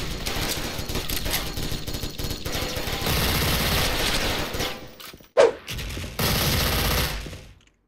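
Dual MP9 submachine guns fire in rapid bursts in the online shooter game Special Force, with dense automatic fire broken by short pauses, one sharp louder crack near the end, then the firing resumes before fading out.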